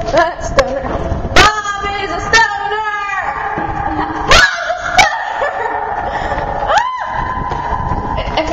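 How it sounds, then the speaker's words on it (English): A dog barks and yips a few times at moderate distance, sharp separate calls scattered over a steady background hum, with people talking now and then in between. "There's a doggy right there."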